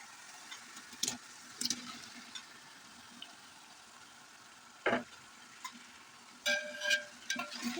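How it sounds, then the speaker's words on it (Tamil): Marinated chicken dropped into a biryani gravy and stirred in a hot pan, giving a soft continuous sizzle broken by a few sharp scraping stirs and louder splashy bursts, fairly close with no talking. "சிக்கன் போட்டு அந்த கிரேவி நல்லா வந்துடுச்சு அப்புறம் சிக்கன் போட்டு நல்லா மிக்ஸ் பண்ணுவோம்"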